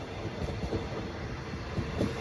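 Thai express train 83 from Bangkok to Trang, made up of CNR sleeper cars, rolling past near a station: a steady rumble with rhythmic wheel clacks over rail joints, fairly close and continuous with no talking.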